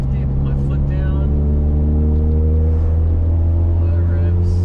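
A forged, built RB25DET engine pulls hard in fifth gear from low revs on a midnight test drive, a loud, steady, rising drone heard from inside the car.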